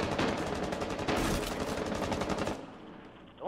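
Rapid automatic gunfire in Rainbow Six Siege, a loud sustained burst of closely spaced shots lasting a couple of seconds before cutting off into quieter room tone.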